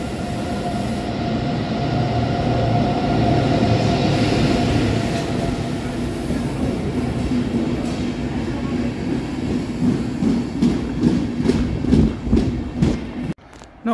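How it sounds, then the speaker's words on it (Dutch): A first-generation ICE high-speed train passes at Wuppertal, a loud steady roar that builds, then gives way to rhythmic wheel clatter over rail joints as the cars go by, with a voice audible faintly. "Allereerste generatie ICE."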